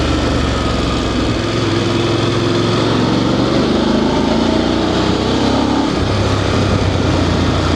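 DSX 900 motorcycle engine pulling hard on a mountain ride, a loud, continuous droning induction roar held steady close by, with the pitch shifting as revs change near the end.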